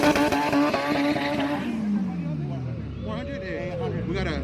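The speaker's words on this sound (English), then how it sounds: "Ready, burn out." Danny Duke's Honda EG, a front-wheel-drive Honda, runs a burnout at a drag strip before a grudge race. The engine revs high while the tires squeal and smear in one sustained roar that drops off midway, with people talking nearby.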